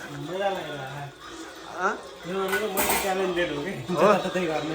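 Dishes and pots are washed during Dashain festival preparations in Nepal, with clinks and clatters of metal utensils and cutlery heard close by under ongoing conversation.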